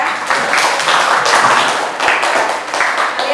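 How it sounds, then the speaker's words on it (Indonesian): A classroom group claps together in loud, close applause, a dense burst of overlapping claps with slight surges, ongoing without speech. "tepuk tangan dulu buat kita semua ya"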